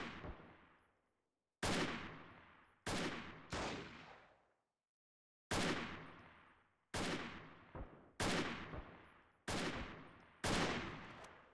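Rapid bursts of gunfire ring out in Freeman: Guerrilla Warfare, each sharp crack trailing off into a decaying echo, coming in irregular clusters with brief silent gaps between volleys.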